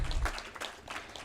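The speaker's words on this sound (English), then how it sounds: "a big round of applause, please" Brief, soft applause from an audience at a climate working group conclave, a muffled wash of clapping lasting about a second.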